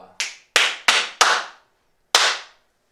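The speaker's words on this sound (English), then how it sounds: "the last bit is going to be double click, clap, clap, clap, wait, clap" Five sharp hand claps in a rhythm pattern, rehearsing a choir part: four quick claps close together, a pause, then one final clap, each crisp and close with no talking.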